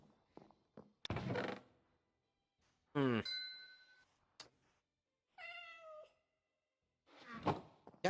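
A house cat lets out several distinct meows, one rising and wavering, another thinner and higher, spaced apart with silence between them, close by, followed by a few faint knocks and rustles.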